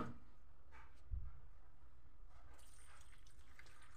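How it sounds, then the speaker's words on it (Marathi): Water pours steadily over bitter gourds, one kilogram of them, set to soak in a kitchen vessel, giving a continuous faint splashing and trickling with a small knock near the start and no talking. "कारल्यामध्ये पाणी ओतून ठेवते 10 मिनटं"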